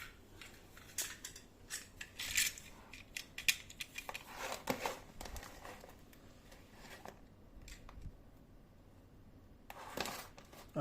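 Scissors snipping through the plastic seal of a Yamaha disc lock package, with irregular sharp cuts and crinkling plastic, close and fairly quiet, with pauses between snips.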